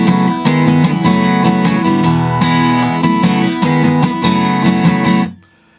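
Acoustic guitar in standard tuning strumming the intro of a song, bright rhythmic chords that play steadily, close and loud, for about five seconds before ringing out into silence.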